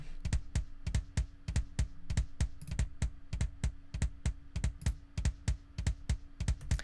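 Two kick drums layered together in a metal mix, one darker and one slappier, pounding in a fast even run of punchy thumps with a sharp attack, loud and close.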